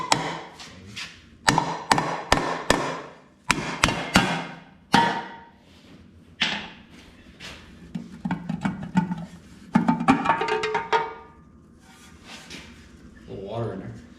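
A hammer taps on a part of a 1945 John Deere B tractor in a workshop, giving several sharp, close metallic knocks in uneven bursts while people talk around them.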